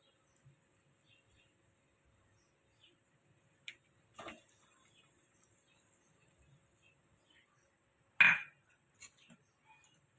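A spoon knocks against a pan while ground paste is stirred into green peas: sparse, light metallic clinks with long quiet gaps and one sharper clatter near the end.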